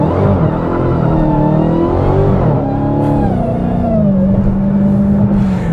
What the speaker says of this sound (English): we'll give it one more full throttle run here.